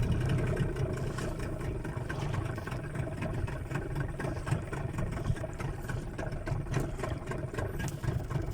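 A Yamaha 15 outboard engine runs steadily nearby, a continuous mid-pitched putter with a rapid, even pulse and no speech over it.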